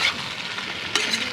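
Malabar spinach with green chili paste being stirred in a hot pan, a steady soft sizzle broken by a brief louder scrape of the spoon partway through.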